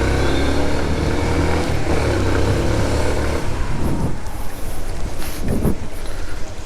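A Runner Knight Rider V2 150cc motorcycle rides at speed, with a loud, steady engine drone and wind rush that shift pitch partway through the run.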